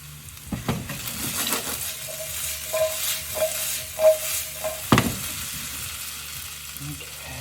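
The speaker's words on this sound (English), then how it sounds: "I'm going to go ahead and just toss some fenugreek in here" Fenugreek seeds toast and sizzle in a hot pan, a steady frying hiss broken by several scraping stirs and light utensil knocks, with a soft hum underneath.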